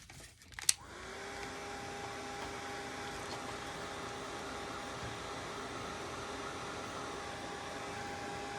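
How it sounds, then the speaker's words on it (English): A hair dryer is switched on to dry paint with a click, then runs as a steady, even whoosh and hum close by, alone. "Okay, let's dry this."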